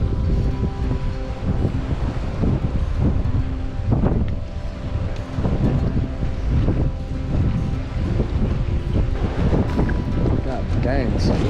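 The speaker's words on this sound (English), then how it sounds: "Got the wind blowing in my face 100 miles an hour, so you guys won't be able to hear shit." Strong wind buffets a microphone at a pond during a windy fishing trip, a loud, continuous rumbling roar with gusty thumps, while someone talks underneath it.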